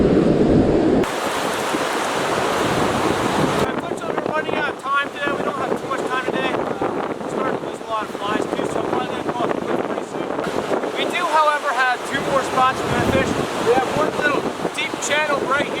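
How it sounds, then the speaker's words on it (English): Wind gusting by the Clarks Fork of the Yellowstone River, heard as rough buffeting blasts across the microphone with flowing water beneath, while a person talks through much of it. "The wind!"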